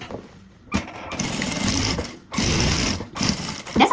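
A sewing machine stitches a lining into the body of a fabric toiletry bag in three quick bursts, each whirring run separated by short pauses.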